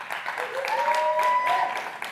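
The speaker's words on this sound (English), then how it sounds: "Let's give a big round of applause" Crowd applause at a charity gala as a donation is announced, dense steady clapping throughout with a thin whistle-like tone riding over it midway.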